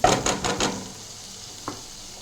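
Chopped tomatoes frying in a pan with turmeric, salt and chili powder, a run of soft sizzling stirs in the first moments, then a quieter hiss with one brief scrape near the end.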